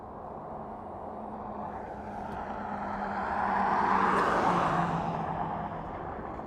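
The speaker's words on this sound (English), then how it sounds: "Airbus A319er." Airbus A319 airliner at Las Vegas Harry Reid Airport, a steady broadband jet roar that swells to a peak midway and then eases, heard from a distance with no talk over it.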